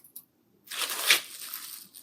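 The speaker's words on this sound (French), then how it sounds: "Allez chercher un trousseau de clés," A bunch of keys jingles briefly with bright metallic clinking, close and soft, after a moment of near silence.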